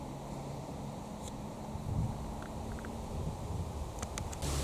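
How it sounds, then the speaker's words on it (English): Outdoor wind rumbles steadily against the microphone in a low, continuous buffeting roar, with a few faint brief ticks and a slightly stronger gust near the end; no one speaks. "be quiet wind"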